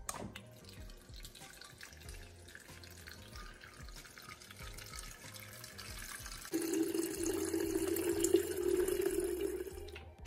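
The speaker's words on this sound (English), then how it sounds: "Then add chilled water." Chilled water runs into a SodaStream bottle. A softer trickle gives way midway to a louder, steadier pour as the level rises, heard close up with no talking.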